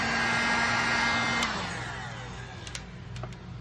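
Heat tool blowing hot air onto a Technics 1200 turntable pitch decal, a loud steady whirring hiss that drops in pitch and eases slightly midway, with a few small clicks near the end.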